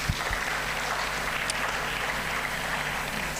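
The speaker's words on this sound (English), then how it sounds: "They deserve a round of applause." Steady applause from a conference audience honouring award finalists at an HR awards event, a dense, even wash of clapping that holds at a constant moderate level throughout, with no voices over it.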